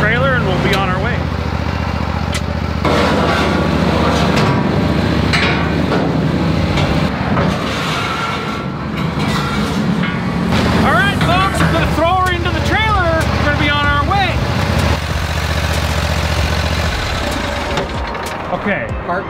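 A Toro Titan Max mower engine runs steadily and loudly throughout, with a person talking over it for much of the time.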